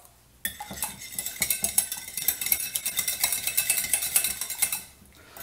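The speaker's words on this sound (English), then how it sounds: "We're going to whisk that up." A single egg is whisked in a bowl with rapid, rhythmic metallic clinks. The sound is close and steady for about four and a half seconds, with no talking.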